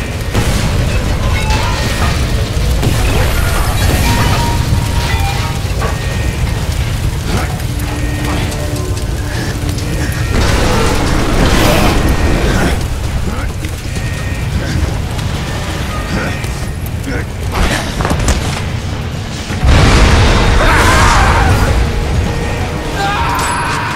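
Explosions and detonations in the video game Bulletstorm, a dense continuous roar of booms, debris and rumbling that keeps going with sharper blasts breaking through, with voices speaking over the chaos.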